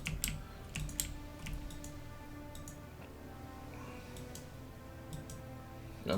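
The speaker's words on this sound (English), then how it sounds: "I just keep clicking the mouse" Sharp mouse clicks tap out at an uneven rhythm over a low, steady game soundtrack during a Pillars of Eternity II: Deadfire session, close and crisp with long quieter gaps.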